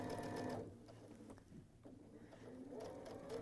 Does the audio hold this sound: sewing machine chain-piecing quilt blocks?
yes